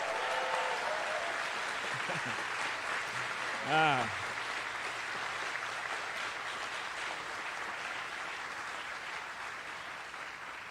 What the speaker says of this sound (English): Let's really hear a round of applause for the folks who helped you get here.